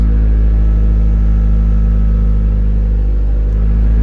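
A Honda Integra Type R (DC2) engine idles steadily after a push-button start, a loud, continuous low rumble with a steady hum throughout and no voices.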